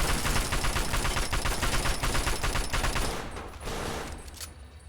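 Rapid, sustained gunfire from Fallout 3 on PS3, a dense stream of shots filling the first three seconds, then thinning and fading toward the end.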